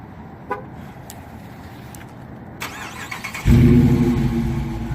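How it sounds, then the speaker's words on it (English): A 2019 Dodge Challenger R/T with a Hemi V8, started by remote start: a few faint chirps in near silence, then the engine fires loudly and settles into a deep, rumbling idle close by. "Who doesn't like the sound of a Hemi engine?"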